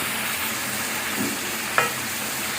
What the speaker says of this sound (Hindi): इसे हिला लेंगे अच्छी तरह